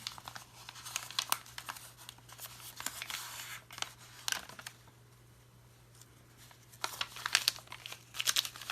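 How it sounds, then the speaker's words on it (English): Small paper flaps for a handmade card journal are folded and creased, a quiet close-up run of soft crinkles and papery taps with a brief lull midway, no voices. "we're going to fold these small flaps"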